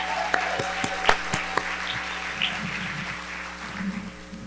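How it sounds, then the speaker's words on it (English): A gala audience claps for the committee chairs at a Black excellence celebration, with a few sharp nearby claps over a low room murmur and scattered voices. "Let's give them all a round of applause."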